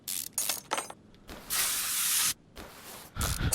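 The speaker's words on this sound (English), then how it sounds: "Hey, don't spray me." Spray can hissing in the video game Car Mechanic Simulator 2021, several short bursts followed by one long sustained spray and another burst, loud and close, with no voices.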